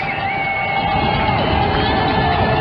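Steady, loud stadium roar from a college football crowd late in a close CSU-Pueblo and Colorado Mesa game, full of shouts and whoops with no break.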